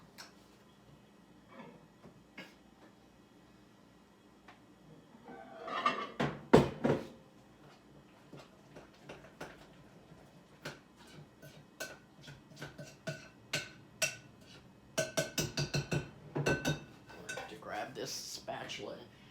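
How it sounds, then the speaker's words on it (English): A metal spoon clinks against a coffee cup while stirring hot chocolate mix, with scattered ticks and taps swelling into denser bursts of clatter, close by and moderately loud, without talk over the sounds. "Now we've got to stir one more time."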